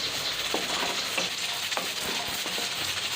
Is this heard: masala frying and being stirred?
yes